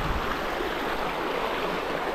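Steady broadband rush of water flowing in the Cebollón river, a continuous close stream with no voices over it.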